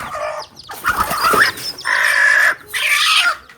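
Native chicken chicks crowded in a basket on a farm give loud, close bursts of high chirping and peeping in several separate calls with short gaps between them.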